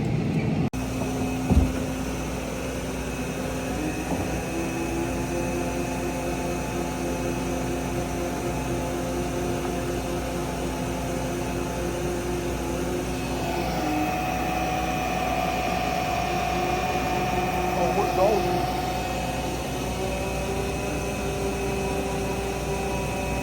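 A flatbed tow truck winches a car onto its bed, a steady mechanical whine and hum with a soft thump near the start and a shifting, rising tone midway, continuing evenly throughout without talk.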